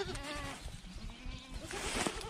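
Hungry young goat kids bleat in quick, wavering cries at close range, several calls overlapping outdoors near grazing grass, with faint insect buzz in the background.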